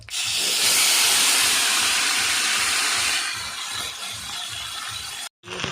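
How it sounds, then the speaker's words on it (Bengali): Bay leaf, dried chilli, cumin and ginger-cumin paste sizzle in hot oil for a prawn, fig and potato curry: a loud, steady hiss that eases after a few seconds, with soft rhythmic low thumps and a brief dropout near the end. "তেল গরম হয়ে গেছে এবার দিয়ে দিচ্ছি তেজপাতা শুকনো লঙ্কা জিরে বেটে রাখা আদা জিরের পেস্টটা"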